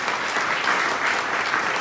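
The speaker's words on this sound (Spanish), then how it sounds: "Dale un aplauso." A church congregation applauds together after a closing prayer, a steady, dense wash of many hands clapping that holds evenly throughout with no voices standing out.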